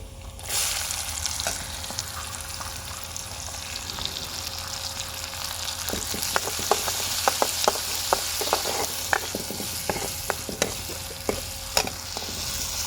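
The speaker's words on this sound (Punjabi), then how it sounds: "ਹੁਣ ਆਪਾਂ ਗੰਡਾ ਪਾਵਾਂਗੇ" Chopped onion frying in ghee for baingan bharta, a steady close sizzle with bursts of crackling and a few light stirring clicks, no voices.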